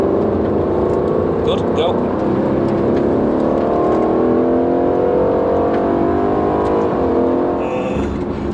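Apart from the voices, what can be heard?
2018 Aston Martin Vantage engine on a race track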